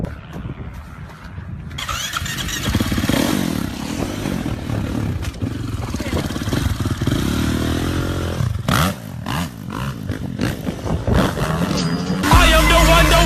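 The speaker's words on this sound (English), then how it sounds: "Dad, can I ride your dirt bike? Yes, if you can start it, you can ride it." Yamaha dirt bike engine kicked to life and revving, a loud rasping motor that rises and falls through repeated throttle blips, then steadies, with music playing over it.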